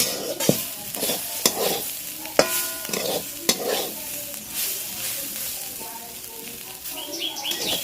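Chowmein is tossed and stirred with spices in a sizzling pan, with repeated sharp scrapes and knocks of the spatula over a steady frying hiss.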